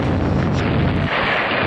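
A plane explodes in mid-air with a loud, close burst of roaring, crackling blast noise that fills the moment, then thins into a hissing rush.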